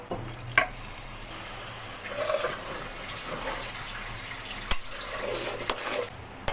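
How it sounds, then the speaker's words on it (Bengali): Rice and pressure-cooked boiled beef fry together for beef tehari while being stirred. A soft, steady sizzle runs under occasional sharp scrapes and knocks against the pot, moderately quiet and without speech. "এখন আমি চাউলটা সুন্দর করে ভেজে নিব এবার যে মাংসটা আমি প্রেশার কুকারে সেদ্ধ করে রেখেছিলাম সেই মাংসটা এর সঙ্গে দিয়ে ভালো করে কষিয়ে নিব"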